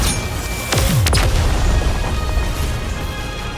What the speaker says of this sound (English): It just keeps shooting!